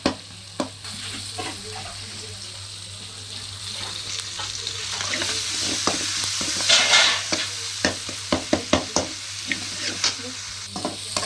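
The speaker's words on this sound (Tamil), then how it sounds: "தக்காளி வதங்கிட்டு இருக்கு பாருங்க, வதங்கியாச்சு" Tomatoes sautéing in a pan for a chicken fry gravy, a steady close sizzle broken by repeated spoon stirring and scraping clicks that grow busier toward the end.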